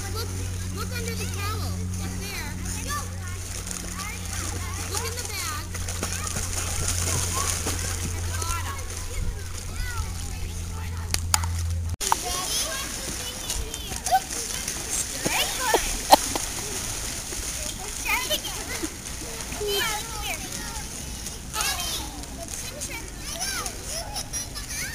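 A child swimming and splashing in water at a family outing, with irregular close splashes and water sloshing, mixed with children's voices and adult talk throughout; a low hum fades out about halfway.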